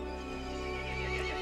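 A horse in the video game Resident Evil Village neighs in a single short, loud, shrill whinny over a steady droning background.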